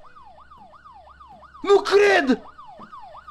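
A police siren wails in a steady rising-and-falling sweep in the horror video game Fears to Fathom, continuing under a short excited spoken exclamation.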